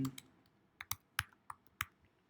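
Typing on a computer keyboard while writing JavaScript code: about eight sparse, crisp keystrokes at an uneven pace, close but quiet, with no speech.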